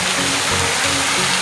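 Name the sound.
waterfall in Italy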